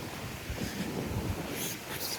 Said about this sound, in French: Il y a du vent, donc j'espère que vous allez m'entendre.